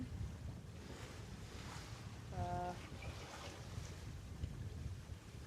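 Wind blows steadily aboard a solo sailboat crossing the Atlantic Ocean, a broad rushing hiss over a low rumble of water against the hull, continuous and moderately loud, with a brief faint tonal creak partway through.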